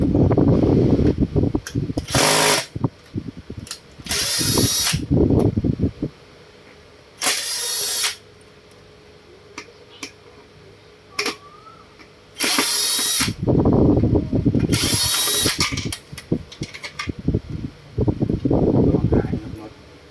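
A power drill whirs in repeated short bursts, loud and close, unscrewing the nuts holding an old fan control board to the motor housing, with someone talking in the gaps between bursts.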